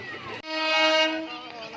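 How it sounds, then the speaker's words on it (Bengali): A train horn sounds near at a busy fair in Thakurnagar, a sustained toot following a brief rumble, loud and close. "পাশ দিয়ে ট্রেনটা আসছে, দেখো"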